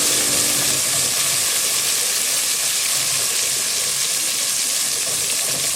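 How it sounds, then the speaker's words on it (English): Garlic and ginger mince sautéing in a pan for goat mutton biryani, a steady, dense sizzle and hiss that runs loud and unbroken throughout with no talking. "some garlic and ginger mince in the mix. I'm gonna start sauteing."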